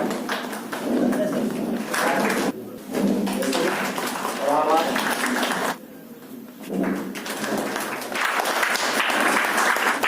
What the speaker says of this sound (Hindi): हम लोग यही चाहेंगे कि उनका स्वागत तालियों की गड़गड़ाहट से करें।